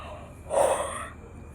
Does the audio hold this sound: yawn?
yes